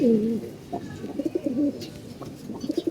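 Pigeons coo close by, a rich warbling call repeated in short bursts with brief pauses between, and no voices over them.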